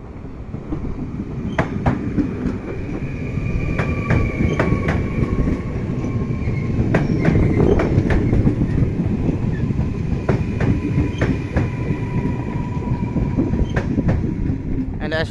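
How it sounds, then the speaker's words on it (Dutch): A train pulls in and passes close by at a station, with a loud steady rumble, rhythmic clickety-clack of wheels over rail joints and occasional squealing wheel tones over about fifteen seconds. "inmiddels komt er een mooie firm aangereden."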